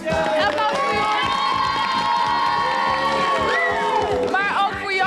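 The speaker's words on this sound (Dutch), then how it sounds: "Applaus voor Jort." A crowd of children cheers and claps for a classmate on a televised kids' show, loud and continuous, with shouts and whoops rising over the applause and voices talking throughout.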